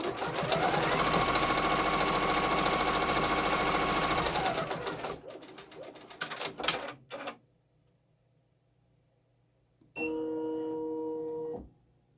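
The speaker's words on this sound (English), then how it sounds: "we're going to stitch it into place and fold it over" Sewing machine stitching fabric for a quilt block, a steady loud whirring run for about five seconds, then some handling clicks and a pause before a second shorter stitching burst.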